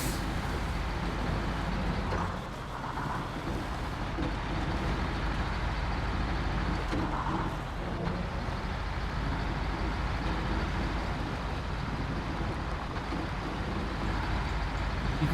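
A truck in SnowRunner on the Nintendo Switch drives with its engine droning steadily as a loud, continuous low rumble, with slight shifts in tone and an air-brake-like hiss, for the whole stretch.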